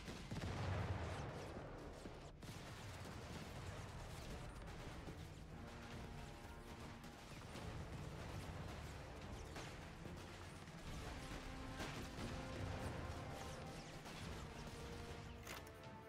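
Gunfire and artillery rumble through a Company of Heroes 3 North African battle, with dense bursts of shots, crashes and booms layered continuously over a low roar.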